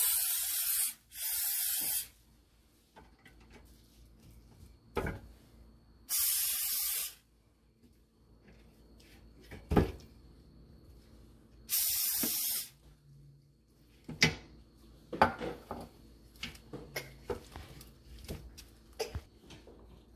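Extra virgin olive oil is sprayed onto turkey wings for the air fryer in three short, hissing bursts, close and clear, followed by quieter clicks and handling noises.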